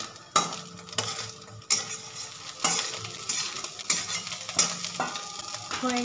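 An egg fries in hot oil in a wok, a steady sizzle punctuated by repeated sharp scrapes and clinks of a spatula stirring against the metal, close and alone without talk.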